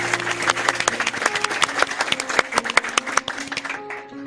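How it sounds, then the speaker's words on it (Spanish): An audience at a church gathering breaks into applause, dense rapid claps from many hands close and loud, fading slightly toward the end with no speech over it. "Este capítulo se merece un aplauso para Cristo"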